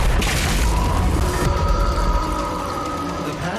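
A large explosion as a destroyed target blows up in the Doom video game: a deep, loud boom at the start that rolls into a long rumbling, crackling tail, with no talking.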